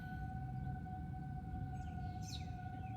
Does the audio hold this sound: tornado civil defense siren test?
yes